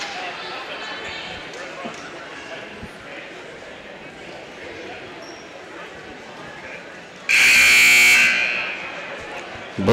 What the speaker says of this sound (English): The buzzer scared me